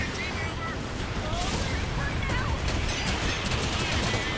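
Turret gunfire in the video game Gundam Evolution, a dense, continuous crackle of rapid shots layered with game effects and whooshing, while a player talks over it.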